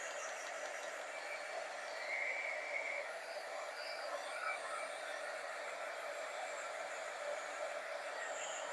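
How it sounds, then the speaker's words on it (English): Embossing heat gun blowing hot air to dry paint on a wooden craft surface, a steady, faint whooshing hum that runs evenly throughout with no talking. "I'm just giving it a little kickstart with this is my embossing heat gun."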